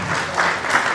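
Steady applause from an audience greeting a guest at a university welcome event, broad and continuous across the whole moment without any voices.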